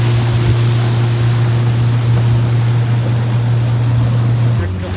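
Steady low engine drone of a ferry boat with rushing water and wind noise throughout, loud and constant, easing slightly at the end.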